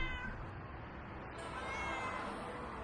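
A human voice imitates a cat with drawn-out meowing sounds, fairly faint and set against a steady background hiss.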